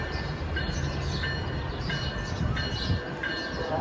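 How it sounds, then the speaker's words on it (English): A Metra electric South Chicago commuter train rolls into a station with a continuous loud rumbling and rattling of wheels and cars, a steady close roar throughout. "Electric South Chicago train number 334 to Millennium Station is now arriving."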